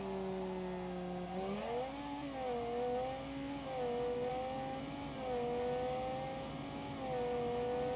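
A V10 car engine accelerating in the Automation video game, a sustained droning rev that climbs in pitch, wavers through gear changes and holds steady and fairly loud throughout, with no talking.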